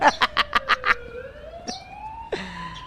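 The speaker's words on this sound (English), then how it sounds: "what's up with the ambulance?" A wailing ambulance siren from the video game RimWorld: a quick run of about six sharp electronic pulses, then a long tone that slowly rises, ending in a brighter burst, fairly loud and close with no talk.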